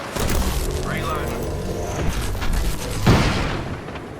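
Knuckle Cluster grenade in the battle-royale game Apex Legends bursts in a deep boom among crackling gunfire and impacts, mid-loud and layered over busy game sound.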